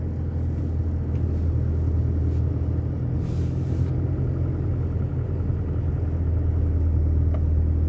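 Isuzu D-Max Cab4 4x4 pickup with manual gearbox rolling over concrete road joints, heard as a steady, loud low road and engine rumble inside the cab with no voices.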